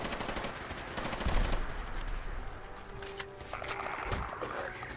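Sustained automatic gunfire in Fallout 4, fast rattling bursts at moderate distance amid in-game ambience, with rapid repeated shots continuing throughout.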